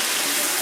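Water is poured into a light katla fish and potato curry, a brief, steady splashing rush that lasts less than a second.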